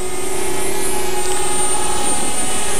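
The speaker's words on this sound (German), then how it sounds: "Die Drohne startet gerade nach oben über mich" A DJI Spark quadcopter drone lifting straight up in Rocket mode gives a loud, close, steady high-pitched whine of buzzing propellers that holds constant throughout.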